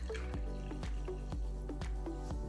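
Sparkling water poured into a glass for a margarita, a close series of gurgling glugs and drips in an uneven rhythm, fairly quiet, with no talk over it.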